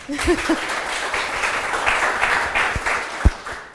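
A crowd applauds, a steady wash of clapping that carries through the whole stretch, moderately loud with a few sharper thumps near the end.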